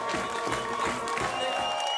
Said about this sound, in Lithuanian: Plojimai Uostamiesčio komandai.